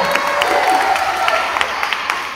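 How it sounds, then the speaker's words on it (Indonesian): An audience applauding speakers at a talk, a brisk patter of many clapping hands with individual sharp claps standing out, a faint tone running underneath. "Tepuk tangan buat mereka-mereka yang sudah berbicara"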